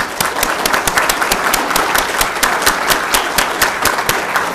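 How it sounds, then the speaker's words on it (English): A city council meeting audience applauds steadily with dense, sharp individual claps that carry evenly through the whole stretch. "How about joining me in a round of applause?"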